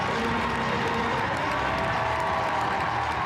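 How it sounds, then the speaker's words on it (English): A large crowd at a show jumping grand prix in London roars and cheers in a dense, sustained wall of noise, steady and loud throughout with some applause mixed in. "What a cheer"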